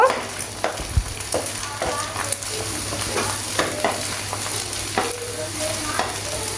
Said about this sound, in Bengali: এখন আমি এটা হালকা করে ভেজে নেব